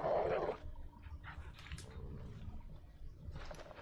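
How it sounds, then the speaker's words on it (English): A dog in The Witcher 3 video game lets out a brief whine at the start, then low grumbling and snuffling noises continue faintly against quiet game ambience. "Think that the dog is gonna bite me if I walk too much?"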